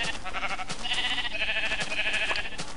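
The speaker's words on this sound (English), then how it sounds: "This is gonna be me killing sheep with their own wool" A Minecraft sheep bleats in a couple of short, nasal cries, close and fairly clear over a faint background.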